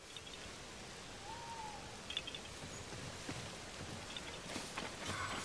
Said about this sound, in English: Obviously, it starts raining the second I start thinking about climbing trees.